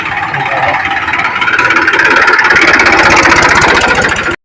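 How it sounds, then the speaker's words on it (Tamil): A tractor engine runs steadily and loudly nearby as it passes on a road near a temple, its rhythmic chugging rumble holding throughout with no talk over it. "ஐயோ டிராக்டர் வந்து"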